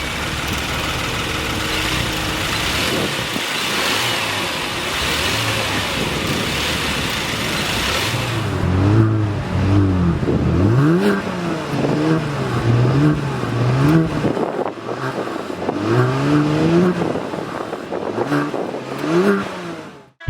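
A 2022 Genesis G70's 3.3-liter turbocharged V6 idles loudly, then climbs through several sharp revs that swell and fall back, each blip rising and dropping in pitch.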